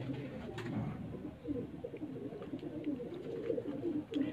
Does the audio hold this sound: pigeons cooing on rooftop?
yes